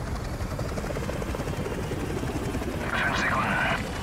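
In Call of Duty Modern Warfare Remastered, a helicopter's rotor drones steadily and loudly throughout, with a brief swell of other game sound near the end.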